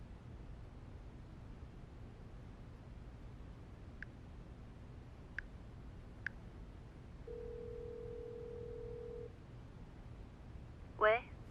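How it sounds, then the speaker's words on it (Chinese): A telephone ringback tone sounds during a call in a Chinese television drama: a few faint clicks, then one steady sustained tone lasting about two seconds over a quiet background. "我现在就要打电话给坎迪"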